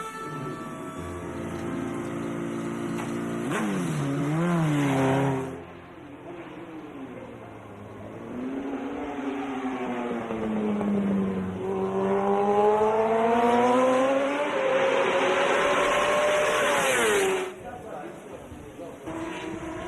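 A Kawasaki Ninja ZX-RR MotoGP motorcycle screams around the track, revving loudly with high sweeping pitch changes through gearshifts and passes, dropping briefly before surging again, with a voice speaking over it.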